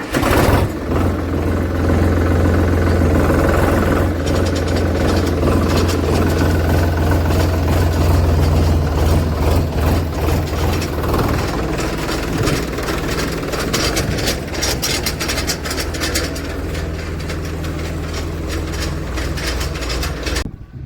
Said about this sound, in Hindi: ट्रैक्टर में तेल डालने के बाद चलो करते हैं इसे स्टार्ट।